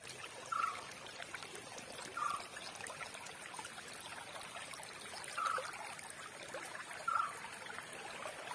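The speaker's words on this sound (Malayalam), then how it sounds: "നമ്മൾ ഇതാ കുറച്ച് നെയ്സ് മണൽ അതിന്റെ മുകളിൽ അതുപോലെ അങ്ങനെ ഇട്ട് കൊടുക്കുന്നുണ്ട്" Fine sand pours onto the base of a homemade Christmas tree, a soft steady hiss with a few faint brief ticks spaced through it, quiet and without talk.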